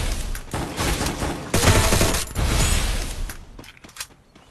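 Bursts of gunfire and a grenade blast in an online shooter game arrive in rapid, loud clusters that fade toward the end, with no voices over them.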